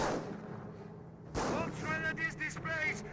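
Gunfire and artillery-style bangs in the real-time strategy game Company of Heroes 1, British versus Wehrmacht, crackling in a steady battle mix with a sharp burst midway, under a commentator's voice.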